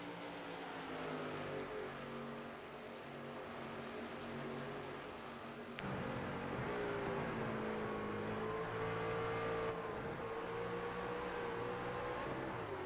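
Engines of racing trucks in a sim racing video game at Phoenix, a continuous droning roar with pitch shifts as they downshift, steady and fairly loud with no talk.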